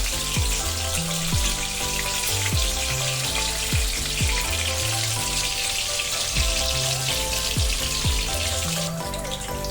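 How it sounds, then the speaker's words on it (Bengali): Homemade chicken nuggets fry in hot oil, giving a steady, close sizzle that runs unbroken throughout, with no talk. "নাগেটসগুলো কিন্তু আমার ভাজা হয়ে গেছে।"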